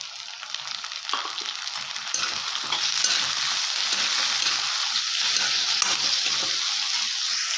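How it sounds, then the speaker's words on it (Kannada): Ginger and garlic fry in a pan for a potato and green pea curry, giving a steady, close sizzle with stirring scrapes throughout and no voices. "ಸ್ವಲ್ಪ ಹಸಿ ಸ್ಮೆಲ್ ಹೋಗೋವರೆಗೆ ಬೇಡಿಸೋಣ ಶುಂಠಿ ಬೆಳ್ಳುಳ್ಳಿ"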